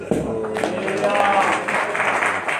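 A church congregation claps for the Lord during an Oriya-language sermon on Luke 16. The clapping is continuous and sits partly under voices talking in the hall.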